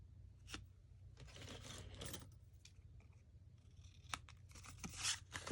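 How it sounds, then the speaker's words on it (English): Scissors cut rounded corners into a piece of card, with quiet snips and papery rustles close by, ending in a few crisp clicks of the blades, with no talking. "now we need to do the corners, so I will get out my trusty dusty card and cut those"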